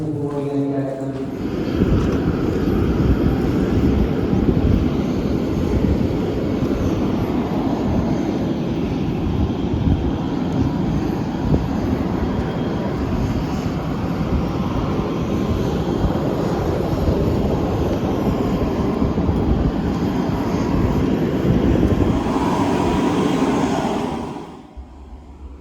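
A Fokker 50 turboprop airliner sits at boarding with a loud, steady engine roar and whine that continues unbroken for over twenty seconds before cutting off abruptly near the end.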